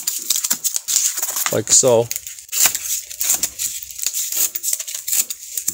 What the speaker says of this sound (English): now you just want to cut out these slots right here